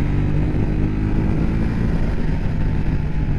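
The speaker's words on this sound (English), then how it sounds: "What a phenomenal motorcycle." A 2023 KTM 890 Adventure motorcycle on knobby tires, riding at about 5,000 feet elevation, gives a steady, loud engine drone with a continuous low rumble throughout and no talk over it.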